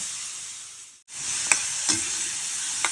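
Rosemary simmering in oil in a pan after the gas is turned off, a steady close hiss and sizzle with a brief pause and a few sharp spoon taps as it is stirred, no voices.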